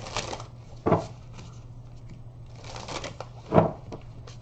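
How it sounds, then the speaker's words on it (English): Two brief bursts of tarot cards being shuffled, separated by a pause, over a low steady hum in a quiet room. "I'm just going to shuffle and pick one if you don't give me one."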